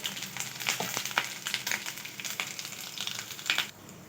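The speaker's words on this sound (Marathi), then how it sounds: "त्यानंतर जे अद्रक आपण घेतलेलं आहे ते याच्यात टाकणार आहोत. हे व्यवस्थित तेलात छान खरपूस होऊ द्यायचं आहे." Ginger pieces fry in hot oil at the start of a mixed vegetable soup, giving a steady close crackling sizzle with scattered sharp pops and occasional stirring, with no voices.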